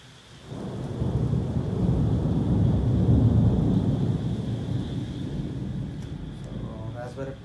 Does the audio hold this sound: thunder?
yes